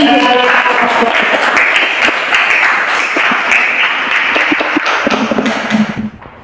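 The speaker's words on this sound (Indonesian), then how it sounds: "Luar biasa, tepuk tangan" Classroom audience applauding during a lesson, a dense, loud wash of clapping filling about six seconds before tapering off abruptly at the end.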